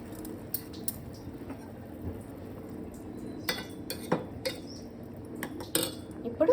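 Semolina being stirred into upma in an AMC cookware pot, with a utensil scraping and clinking against the metal in scattered knocks over a low steady background, close and fairly quiet.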